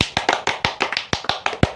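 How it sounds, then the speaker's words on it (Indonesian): Hands clapping during an Indonesian podcast about life in a pesantren: about ten sharp, close claps in a brisk, fairly even rhythm with no talking. "Tepuk tangan."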